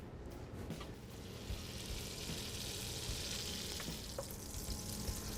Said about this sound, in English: So I'm actually gonna melt the butter first, and then take about half of these and melt these on our induction as well.